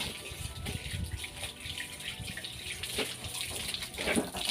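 Water running from a tap into a plastic tub, a soft continuous splashing flow at low level with no talking.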